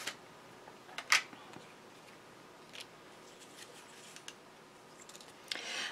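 Green cardstock being cut for a handmade card, with a few sharp, close snips and scattered faint clicks and rustles in a quiet room.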